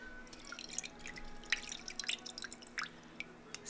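Quick, irregular drips of liquid falling through a strainer that catches coriander pods, close and fairly faint, with small splashes scattered over a low background hum.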